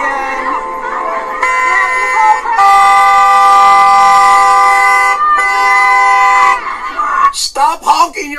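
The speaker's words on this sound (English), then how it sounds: "Stop honking your horn!" A car horn blares in long sustained honks, loud and close, with shouting voices breaking in near the end.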